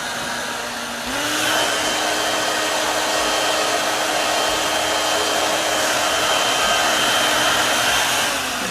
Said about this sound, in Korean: 이렇게 한 상태에서 드라이기로 열어요